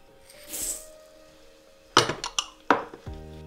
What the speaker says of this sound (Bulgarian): В подходяща висока купа изсипвам мекото масло и двата вида захар.